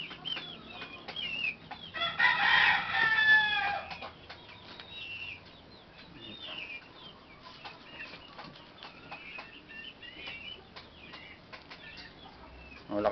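Chickens cluck and squawk nearby with a brief flurry of flapping wings, then quieter scratching and soft clucks continue in the background.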